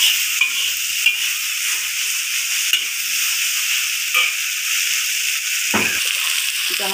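Oil sizzles in a pan while instant noodles are cooked: a steady, bright frying hiss is heard close up, broken by a few soft stirring clicks and one louder scrape near the end.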